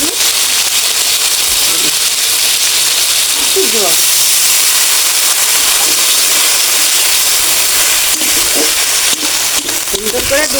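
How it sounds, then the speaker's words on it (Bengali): Malabar spinach stems frying in leftover fish-frying oil in a wok, a loud, steady sizzle and hiss with occasional stirring scrapes and clinks throughout. "মাছ ভাজা তেলের মধ্যে পুঁই ডুগা ছেড়ে দেব"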